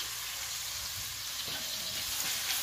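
Native garlic sizzles steadily as it fries in a pan, a continuous close crackling hiss at an even level with faint soft knocks underneath.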